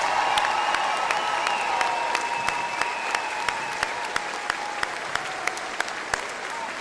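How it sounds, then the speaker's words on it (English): A large graduating-class crowd at a Hastings College commencement claps steadily and warmly, dense sustained applause with sharper individual claps standing out near the front and a soft sustained tone running underneath. "One more huge round of applause for the class of 2026."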